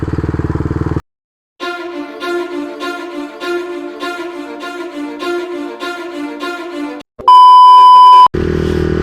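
A motorcycle engine drones steadily with a pulsing, revving tone after a brief silence, then cuts out and a loud electronic beep sounds for about a second before the engine noise returns.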